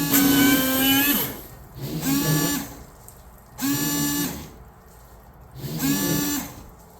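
A BMW windshield washer pump motor switches on in four short bursts of about a second each, separated by pauses. Each burst is a close, buzzing electric whine with a strong tone.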